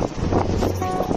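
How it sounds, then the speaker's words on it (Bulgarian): Gusty wind buffets the microphone outdoors in the old town of Koper, Slovenia, as a steady, loud rumble with no talking. "вятъра"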